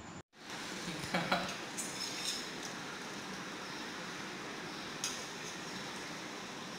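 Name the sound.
stirring cucumber kesari with ghee in a pan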